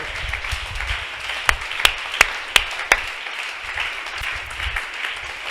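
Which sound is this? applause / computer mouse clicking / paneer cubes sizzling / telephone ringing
applause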